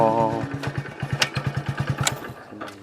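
A motorcycle engine idles up close with a rapid, even thumping beat, while a voice speaks briefly at the start.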